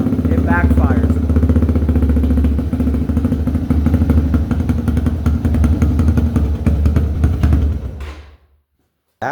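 Dirt bike engine with its exhaust baffle pulled out, a loud, raspy close-up idle with a blatting, uneven exhaust note that runs steadily and then cuts off abruptly near the end.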